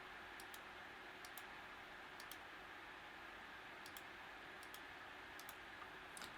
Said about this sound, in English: here's a reference as to clicking a mouse